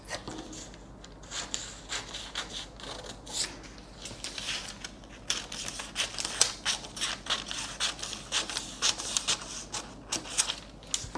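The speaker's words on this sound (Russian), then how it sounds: "Сейчас вот мои ножницы." Scissors snip and crunch through blouse fabric in a series of short irregular cuts, close up and fairly quiet, with no talking.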